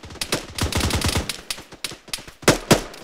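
Rapid automatic rifle fire in an Arma 3 team-versus-team firefight, dense bursts of close, loud shots in quick succession with short gaps, then two heavier reports near the end.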